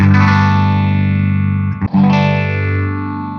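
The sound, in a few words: electric guitar through Fender Tone Master amp modeller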